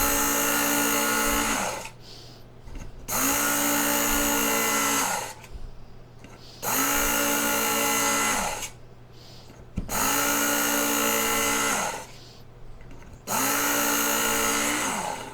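A Work Sharp belt sharpener grinds along a large knife blade in repeated passes of steady, loud whirring, each lasting a couple of seconds and separated by short pauses.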